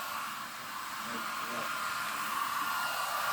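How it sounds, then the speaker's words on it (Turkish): A hair dryer blows steadily to warm and dry a newborn goat kid chilled after being born in the snow, a constant close whooshing hiss with a faint hum, running alone throughout. "Biz de saç kurutma makinesiyle kurutup annesine tekrar geri götüreceğiz."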